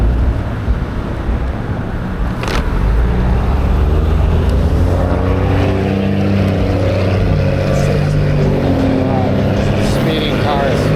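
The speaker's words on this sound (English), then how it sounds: "Speeding cars." Traffic roars past on a busy Irvine road during an eBike commute, cars speeding through a major intersection in a steady loud wash of engine and tire noise, with a brief whoosh as one vehicle passes close.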